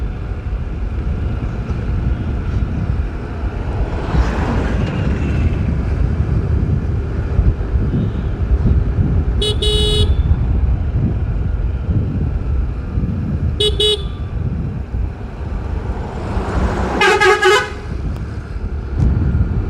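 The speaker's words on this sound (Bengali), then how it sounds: "ওই দেখো সব বাসগুলো আসছে এক এক করে" Buses arrive one after another in the early morning near the Digha railway station, their horns sounding in three separate honks over a constant roar of engines and wind.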